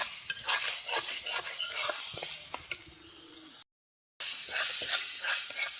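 Tomatoes fry in oil for a chutney while a utensil stirs and scrapes the pan, producing close sizzling and hissing with irregular scrapes and clinks, a brief dropout, then steady frying again.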